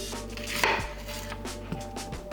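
A knife chops onions into half rings on a cutting board, a few sharp cuts spaced out over a steady kitchen background, sounding moderately close.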